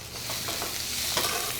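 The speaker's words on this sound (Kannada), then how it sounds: "ಈರುಳ್ಳಿ ಸ್ವಲ್ಪ ಕೆಂಪು ಹುರ್ಕೊಳ್ಳಿ." Onions fry in a pan for restaurant-style red chilli chicken: a dense, loud, continuous sizzle with faint stirring scrapes, close up and without speech.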